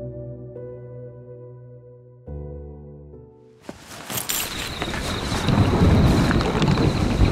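Rain and thunder sound effect in an Indonesian radio drama: soft sustained music gives way to a rumbling thunder crack, then a heavy, steady downpour that grows louder and fills the rest.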